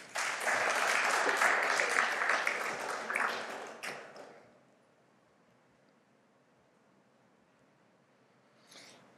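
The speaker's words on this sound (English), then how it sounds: "Everybody clap." Audience applause for a volunteer called up to play Pac-Man at an emulation talk: a loud, dense burst of clapping for about four seconds that fades into near silence, with a faint rustle near the end.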